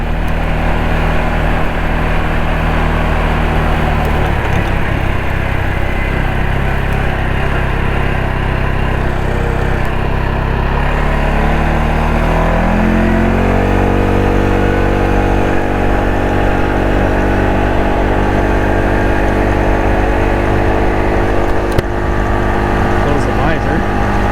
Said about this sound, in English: Switch her into high gear and we'll boot her for home.